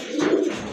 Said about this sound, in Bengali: এক জোড়া ব্লু শার্টিন কবুতর